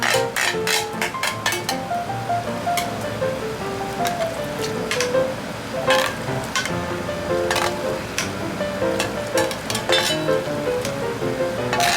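Ginger and garlic fry in a pan for chicken wing curry, a steady crackling sizzle punctuated by frequent sharp clinks of a utensil against the cookware.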